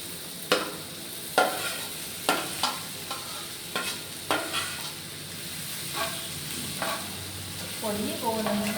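Egg being stirred into tomato masala in a frying pan, with a series of sharp spatula scrapes and taps against the pan roughly every second over a steady low sizzle, close and moderately loud, no talking.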